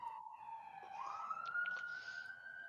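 A police siren wails steadily from a distance, its pitch slowly rising and holding over a low background rumble.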